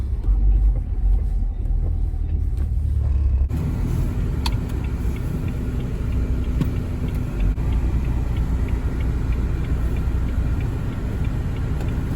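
A car is heard from the inside while driving, a steady low road rumble and engine hum that continues throughout, with a brief change in the background tone early on and no talking.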